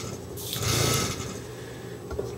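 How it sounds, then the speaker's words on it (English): An airbrush air compressor hums steadily at close range, with a brief surge of hissing air partway through and no talking. "Go ahead and turn the air compressor off"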